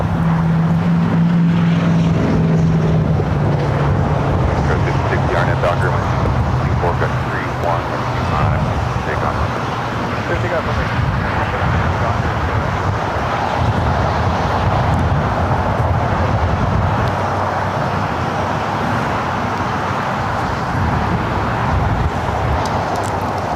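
A German Air Force Airbus A350 takes off at Los Angeles International Airport, a long continuous jet roar rumbling and building across twenty-odd seconds, with people talking close over it.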